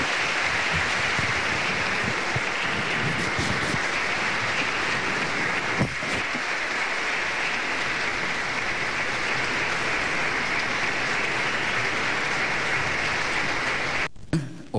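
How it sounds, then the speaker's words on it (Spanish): A standing ovation following a papal address: a dense, unbroken roar of many hands clapping at steady loudness for the whole stretch, with one brief sharper crack midway and a sudden dip at the very end. "Ovación de pie."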